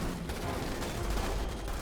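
Dense, continuous bursts of rapid gunfire with booming grenade blasts, a chaotic barrage of combat in the game Starship Troopers: Terran Command filling the whole stretch.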